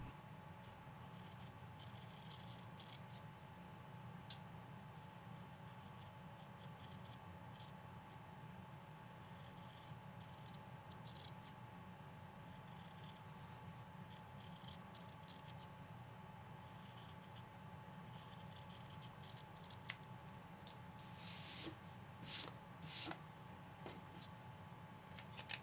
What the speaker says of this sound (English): Now we are carefully going to trim as close to the thread as we can